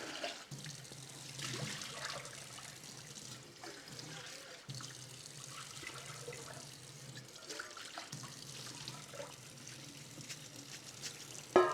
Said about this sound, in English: And now we just let this drain off until it's drier.